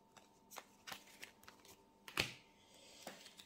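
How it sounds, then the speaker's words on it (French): Tarot cards being turned over one after another on a table, a series of soft, close papery flips and slaps with one sharper snap in the middle, with no voices. "Cartes sont retournées."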